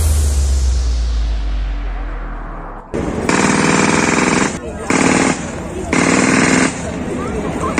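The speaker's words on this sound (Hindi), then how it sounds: "एयरफोर्स की कमांडोज यूनिट एक कॉम्बैट ऑपरेशन करने वाली है जिसमें गोलियां भी चलेंगी और बम भी फटेंगे" An Air Force commando unit fires automatic weapons in a combat demonstration at an air show in Chandigarh. Loud machine-gun bursts arrive in three or four blocks after a low rumbling lead-in, with crowd noise underneath.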